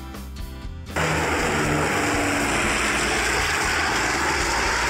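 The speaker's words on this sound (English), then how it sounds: "Water bomber plane, forest firefighting aircraft." A water bomber firefighting plane roars past, its engine noise jumping abruptly from a quieter hum to a loud, steady, broadband rush that stays strong and close for the rest of the moment.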